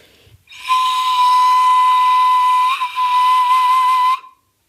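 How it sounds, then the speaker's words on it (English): A single long, piercing whistle-like tone from a seashell blown like a cross-blown flute, steady and loud for about three and a half seconds, breathy at the edges, then stopping. "That is an amazing sound from a seashell."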